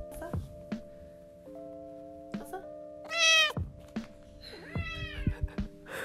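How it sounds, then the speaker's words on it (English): A house cat meows loudly and insistently for attention, several sharp drawn-out cries cutting through a quiet indoor room with a low steady hum underneath. "my cat is now intensely screaming at me. She wants to be petted."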